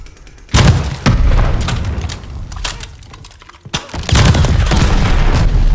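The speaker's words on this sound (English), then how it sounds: "Bad spot for a mortar barrage!" Heavy mortar barrage explosions in the Call of Duty: Vanguard video game, loud close booms with rumbling tails, one burst after another, a brief lull, then another thunderous impact and sustained roar of blasts.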